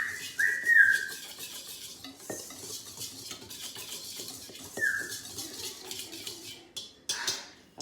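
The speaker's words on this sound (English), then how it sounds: "And a whisk. Mix it all together." Whisk stirring whoopie pie batter in a bowl, Southern old-fashioned style, with soft repeated scraping and clinks against the bowl, a couple of sharper taps, and no talking.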